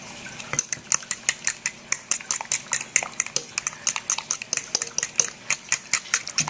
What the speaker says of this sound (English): And you just keep stirring it and it'll come together to look like a ranch